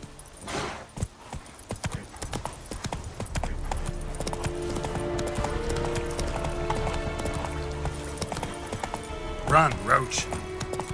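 A horse gallops in the video game The Witcher 3, rapid clip-clopping hooves drumming steadily and close, with a brief whinny near the end and voices shouting over it.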